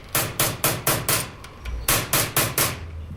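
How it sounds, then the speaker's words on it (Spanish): A silversmith chases a metal sheet with hammer and chisel, striking sharp ringing blows in a steady rhythm, five in a row, a short pause, then four more, close and loud. "Se realiza en la cara externa con martillo y cincel."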